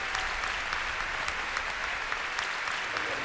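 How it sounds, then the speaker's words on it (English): A concert hall audience, many standing, applauds the Toronto Symphony Orchestra after a Mahler symphony, producing a dense, even wash of clapping heard from a distance. "most of them standing and applauding the Toronto Symphony Orchestra and their music director, Peter Ungen, for this performance"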